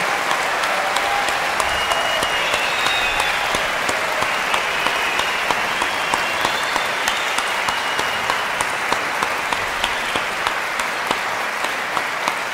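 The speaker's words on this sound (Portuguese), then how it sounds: "Peço para vocês, então, uma salva de palmas dos antigos diretores que estão aqui." Sustained applause from a large crowd at a radio station's 40th anniversary event, dense and steady clapping throughout, with no voices standing out.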